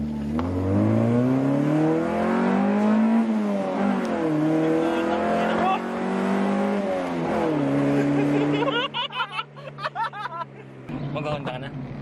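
1995 Honda Civic ESi engine revving hard under acceleration, the pitch climbing and dropping through repeated pulls as VTEC engages, loud and close inside the car, with people talking and laughing over it.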